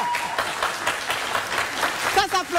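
Studio audience applause on a French live TV entertainment show, a steady wash of clapping lasting a couple of seconds with voices mixed in over it.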